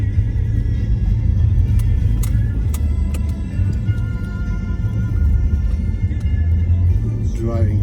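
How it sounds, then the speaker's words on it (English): Car driving through narrow city streets in the Vozdovac district of Belgrade, a steady close engine rumble and road noise throughout with faint passing sounds. "Driving through the narrow streets."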